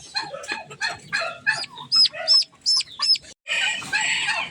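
Several chickens and bantam chicks cluck and chirp close by in short bursts, with a few high peeping calls and a brief rustle near the end.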